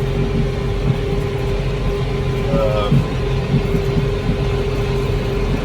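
A tractor engine drones steadily while hay is cut in hot weather, a constant low hum with a faint mechanical whine throughout and a voice talking over it.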